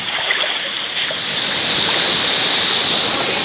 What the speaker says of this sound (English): And we are back to the first waterfall.